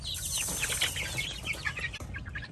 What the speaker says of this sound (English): That's how we feed the baby chicks.